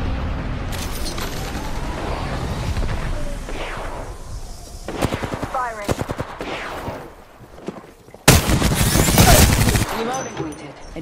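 Loud automatic gunfire from the video game Apex Legends comes in rapid bursts and sustained volleys, with sharp individual shots and a heavier blast of firing near the end.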